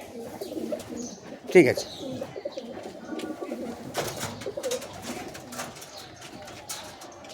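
Domestic high-flying pigeons coo repeatedly close by in a soft, throaty rhythm, with someone talking over them.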